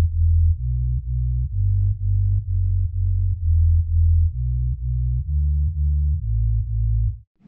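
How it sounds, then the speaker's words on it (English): A deep sub bass synth in an electronic dance drop plays a series of short, pulsing low notes in a steady rhythm, shifting pitch every few beats, alone and loud. "Add that sub bass."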